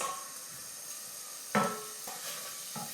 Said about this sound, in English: In goes the garlic and ginger, and we're going to let that saute for about a minute.